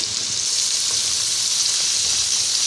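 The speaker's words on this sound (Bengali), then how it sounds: "আলুটা 4-5 মিনিট একটু ভাজা হয়ে গেছে। এর মধ্যে পটলগুলো এবার দিয়ে দিচ্ছি।" Potatoes and pointed gourd fry in a pan for a vegetarian soybean curry, giving a steady, close, bright sizzle with a dense crackling hiss that holds level throughout, with no voices.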